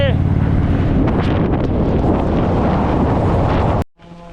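Heavy wind roar buffets the microphone while riding an Indian motorcycle on cold, wet Australian roads, a loud, constant broadband rush that cuts out abruptly near the end, leaving a quieter hum.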